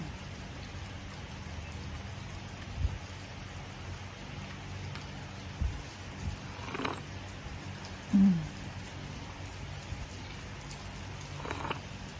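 Steady rain hiss fills the background, a soft continuous patter with a few faint thumps and clicks scattered through it.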